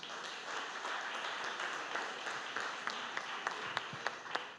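A church congregation applauds during a Sunday evening service, a soft, steady patter of many hands with a few sharper claps standing out near the end, moderately distant and fairly quiet.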